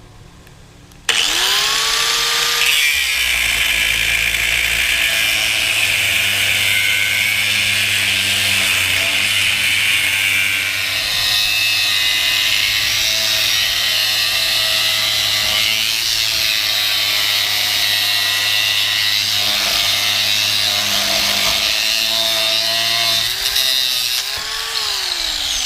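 A power tool cuts through a clamped metal piece at a fabrication bench, giving a loud, continuous high-pitched grinding whine with shifting pitch that spins up sharply and runs steadily for over twenty seconds before winding down, with no talking.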